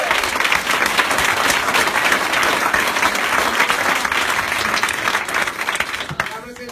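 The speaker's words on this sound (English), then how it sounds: "That deserves another round of applause." A crowd at an Election Day 2016 rally for Senator Barbara Boxer gives a loud, sustained round of applause. Dense clapping fills nearly seven seconds with voices mixed in, then starts to fade at the very end.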